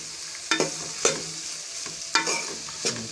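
Vegetables being stirred into a Hakka noodle stir-fry in a hot pan, sizzling under four sharp scraping tosses of a spatula spaced irregularly, close and fairly loud.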